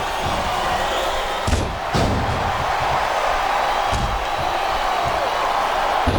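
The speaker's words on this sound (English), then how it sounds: "Wow, listen to that chant." A packed arena crowd roars loudly and continuously during a Terry Funk vs Torrie Wilson submission match in the wrestling video game WWE SmackDown vs Raw 2008, with a few heavy thuds standing out over the din.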